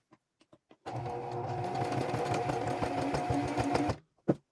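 A sewing machine stitches a thrifted garment in one steady mechanical run of about three seconds, close and clear, framed by a few soft clicks before and after.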